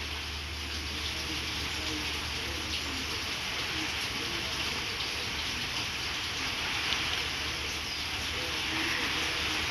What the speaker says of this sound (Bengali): বাহিরে অনেক বৃষ্টি হইতেছে